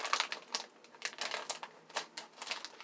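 Snack chip bag being opened, a quiet series of sharp crinkling plastic rustles in irregular bursts, close by and heard alone.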